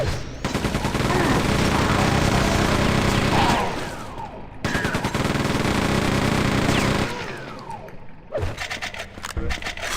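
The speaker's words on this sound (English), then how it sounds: "I have a machine gun. Machine gun." A machine gun in Quake 2 hammers out two long, loud rapid-fire bursts separated by a brief pause, then shorter stuttering shots, close and dominant over the game ambience.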